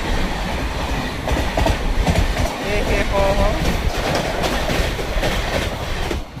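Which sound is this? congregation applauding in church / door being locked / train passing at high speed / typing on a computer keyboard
train passing at high speed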